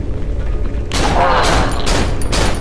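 A shotgun blast in the horror game Cry of Fear, one loud close boom with a short rumbling tail and a couple of follow-up bursts, after a moment of quieter ambience.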